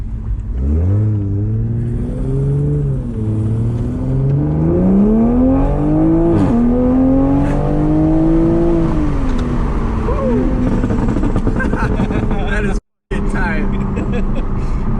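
A Toyota Supra engine pulls hard through rising, falling gear sweeps as the car accelerates on the road, loud and close from inside the cabin, with occupants talking and cheering over it and a brief dropout near the end.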